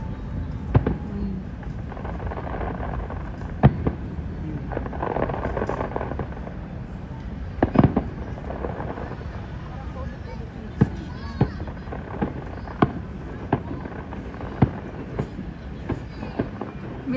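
Spanish fireworks at a pyromusical competition in the Philippines, sharp distant bangs popping at irregular intervals over a steady crowd rumble, with people chatting nearby.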